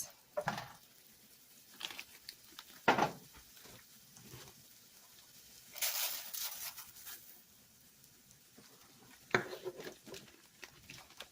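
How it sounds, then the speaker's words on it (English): Arborio rice, about 2 cups, poured into a pan with roughly 1.5 tablespoons of oil for mushroom risotto, giving scattered soft clatters and a brief rushing pour, with intermittent utensil clinks close by. "And then it's time to add in our rice."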